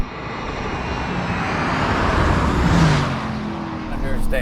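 A Porsche Cayenne Turbo GT SUV engine revs high on a track, a sustained loud roar rising to a peak and easing off, with wind and road noise throughout.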